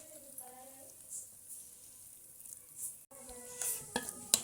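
Frying and stirring in a pan at home, with soft sizzling and intermittent scraping and clinking of a utensil, growing louder and busier toward the end.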